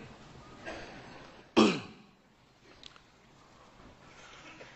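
A single sharp, loud throat clearing bursts out, followed by a brief rasp, then quiet with a faint cough-like catch later.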